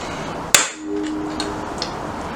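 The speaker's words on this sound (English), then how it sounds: "Hitting the top with a hammer." A single sharp hammer blow on metal, ringing briefly with a clang, followed by quiet background hum.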